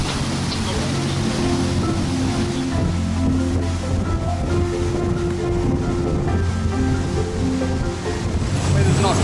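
Azimut 55 motor boat running through rough sea waves, a loud steady engine drone with splashing water and wind noise buffeting the microphone throughout.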